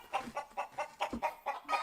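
A chicken clucks in a rapid, even series of about eight short, close, clear calls with no one talking over them.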